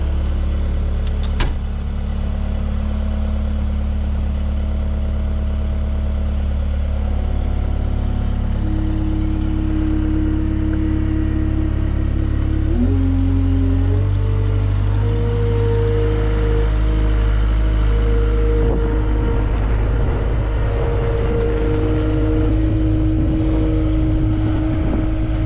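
A skid steer engine idles and runs steadily up close while a bucket is being hooked on, a constant loud low drone that shifts pitch partway through as the throttle changes, with faint mechanical clanks and no speech.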